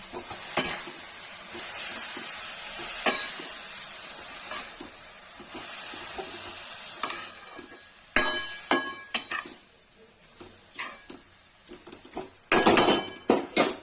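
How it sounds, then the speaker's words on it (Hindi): A spoon stirs salted fried radish (mooli) chutney for Kashmiri talit muji in a pan over steady sizzling, with scraping and sharp metallic clanks that grow louder and more frequent toward the end. "इसमें नमक डाल दिया, इसको चला देंगे"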